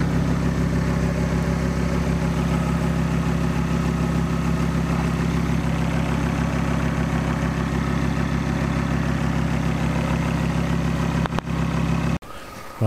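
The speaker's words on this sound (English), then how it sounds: "Car's just idling at the moment. I've just left the engine running." A Volvo S60R idling during an engine oil and filter change: a steady, close, even engine hum with a constant low throb that holds for about twelve seconds, then cuts out abruptly.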